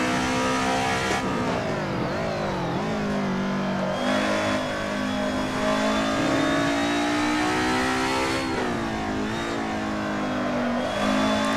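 A DTM Group A race car in Assetto Corsa accelerates hard on the Nürburgring, its engine revving loud and continuous with rising pitch sweeps through gear changes, no talk over it.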